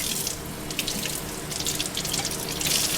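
Tap water runs steadily into a kitchen sink as a pork chop is rinsed under it, a loud, continuous splashing rush with small spatters throughout.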